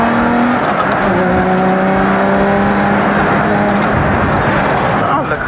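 A BMW E36 lapping an airfield track in training, its engine droning loud and close with rising and shifting revs throughout, tires faintly scrubbing, and a voice talking over the noise.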